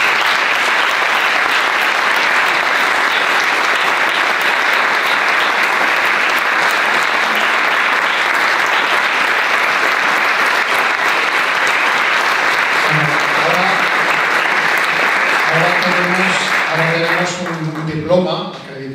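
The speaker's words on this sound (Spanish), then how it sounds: "de nuevo un aplauso de todos" A large audience applauds at the Te Lo Cuento en Luarca 2025 event, with loud, sustained clapping for many seconds that gives way to speech near the end.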